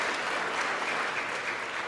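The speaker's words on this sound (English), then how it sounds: "And 1/2 of the crowd goes wild." Crowd in the U.S. House chamber breaking into sustained applause, a steady dense wash of clapping throughout with no speech over it.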